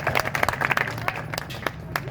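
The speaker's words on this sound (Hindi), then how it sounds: "एक बार जोरदार तालियों से स्वागत कीजिए।" Applause from an audience at an intellectual gathering in Bhatapara, Chhattisgarh, greeting a speaker, with scattered sharp claps over a murmuring crowd and some voices mixed in.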